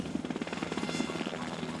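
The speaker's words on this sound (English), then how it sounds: "The sky was literally filled with helicopters everywhere." Helicopter rotor blades chop in a steady rapid rhythm as the aircraft flies, a continuous thumping drone at moderate volume with no voices over it.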